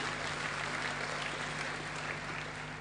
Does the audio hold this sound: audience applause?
yes